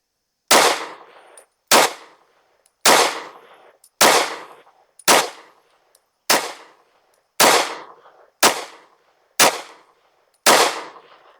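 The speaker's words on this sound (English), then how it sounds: "this time we got 10 of the 115 grain Federal American Eagles loaded up. Let's shoot the bottom right target." A pistol fires ten 115-grain Federal American Eagle rounds at a target, loud sharp single shots about a second apart, each followed by a brief decaying echo.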